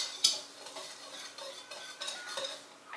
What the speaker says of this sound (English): we're going to take 1/2 tablespoon of baking powder, and we're just going to mix it up